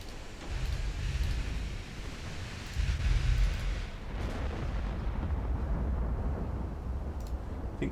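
Naval gunfire and shell hits on warships in Ultimate Admiral Dreadnoughts: a continuous, heavy roar of rumbling cannon blasts and booming impacts, with louder swells throughout.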